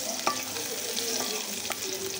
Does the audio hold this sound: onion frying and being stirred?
yes